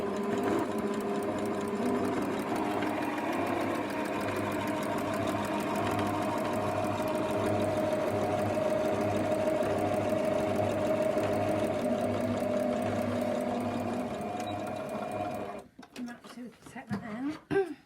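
A sewing machine runs a long straight stitch along fabric bunting, a steady close mechanical whirr holding for about fifteen seconds before stopping, followed by a few quieter handling sounds.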